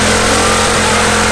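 A modified gas engine on a mini Warthog vehicle revs hard and loud up close, a continuous rough, buzzing roar filling the whole moment without any talking.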